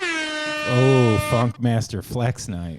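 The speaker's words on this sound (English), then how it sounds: "Why don't you drop us an air horn or something?" An air horn effect from a podcast soundboard gives one loud, sustained blast, then someone speaks over the tail end.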